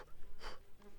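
A brief, faint insect buzz whines past, rising and fading within a second over a soft background hiss.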